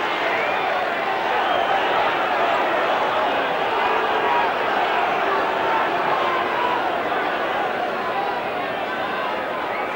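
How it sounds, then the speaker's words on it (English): Broad, steady crowd noise at a Salford versus Hull rugby league match, a continuous wash of applause and murmur from the stands with no break. "Wilby's had a good game, and he gets a rich round of applause."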